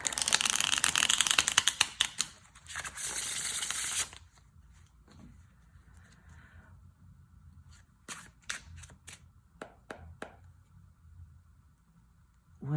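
Tarot cards being shuffled by hand for a soul reading: bursts of crisp riffling and card flicks, a dense run at first, then scattered sharp snaps over a quiet room.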